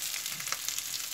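Rice and onions sizzle steadily in a pan for risotto, a continuous close crackling fry with faint scraping, no voices.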